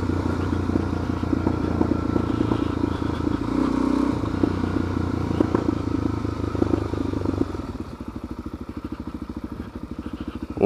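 An off-road vehicle engine labours in first gear down steep switchbacks on the White Rim Trail near Moab, a close, rumbling drone with rattles and clunks that changes to a faster, more even putter near the end.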